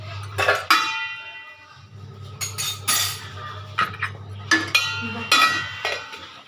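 Metal utensils clink and clatter against pots and dishes in a home kitchen as a ladle is picked up, a string of sharp clanks and rattles with pauses between them over a low hum.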